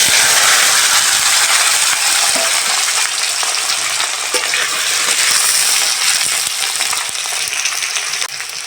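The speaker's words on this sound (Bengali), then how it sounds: "আলুটা প্রথমে ভেজে নেব।" Potato pieces sizzle loudly and steadily in hot oil in a pan, with a continuous hiss and occasional crackles as they fry for a Bengali cauliflower dish, no voices present.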